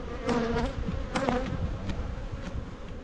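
Honeybees buzzing in a busy hive yard on a late-morning October day, a dense, continuous hum with individual bees droning past close by.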